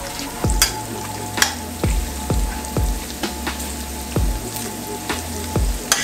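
A spoon scrapes and stirs through a sizzling pan as cayenne is mixed in, with steady frying crackle under a run of evenly spaced clinks and scrapes and no talking.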